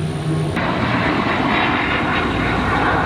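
A Lear jet roars overhead with a loud, steady broadband rush that holds throughout, close and dominant with no voices heard.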